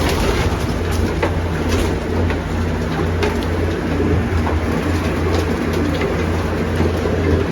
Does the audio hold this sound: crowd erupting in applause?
no